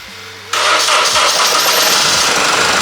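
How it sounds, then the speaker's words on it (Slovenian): A car with a dead battery, being jump-started from a booster, starts at night: a brief crank catches at about half a second, and the engine then runs loud and steady close by with no talk. "Ajde, gremo zdaj pržgati avto"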